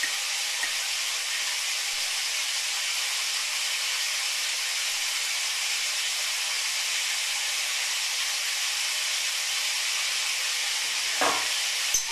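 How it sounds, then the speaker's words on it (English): Bacon frying in a pan makes a loud, steady, close hiss of sizzling fat throughout, with one brief clatter near the end. "Now I have to be louder than the bacon because the bacon is being louder than me"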